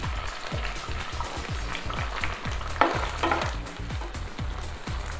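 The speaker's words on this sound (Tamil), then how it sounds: "ஆனியன் ரொம்ப ஃப்ரை ஆக வேணாம், லைட்டாக ஷாலோவாக ஃப்ரை ஆனால் மட்டும் போதும்." Onions shallow-frying in a pan sizzle steadily, with repeated soft scraping and stirring strokes throughout, close and moderately loud.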